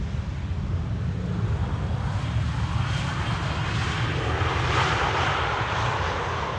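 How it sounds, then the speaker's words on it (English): EasyJet airliner arriving from Naples at Schiphol's Polderbaan 18R, a broad steady jet roar rumbling by at a distance, with some wind noise. "This is an EasyJet arriving from Naples."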